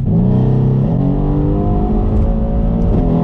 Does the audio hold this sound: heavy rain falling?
no